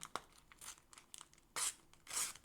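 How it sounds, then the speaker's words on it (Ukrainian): A Panini football sticker packet is torn open, with soft crinkles building to two louder ripping bursts near the end, close and alone. "Відкриваємо цей пакетик."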